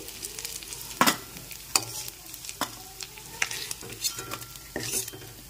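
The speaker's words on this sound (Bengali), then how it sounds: "তেলটা গরম করে মাছের মধ্যে নুন হলুদ মাখিয়ে নিয়েছি। এখানে একটু ভেজে নিতে হবে।" Dried lote fish coated in salt and turmeric fries in hot oil, hissing steadily up close, with frequent scraping and knocking from a spatula turning the pieces.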